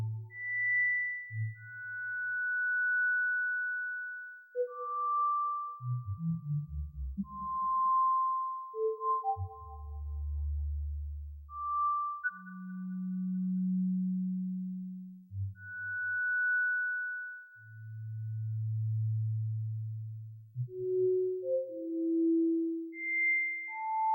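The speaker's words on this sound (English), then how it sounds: "Let's have a listen with the echo." Pure synthesized sine-like tones from a Sonic Pi live-coding session, a sparse melody of sustained low and high notes with echo repeats trailing after each, moderately loud and alone with no voices.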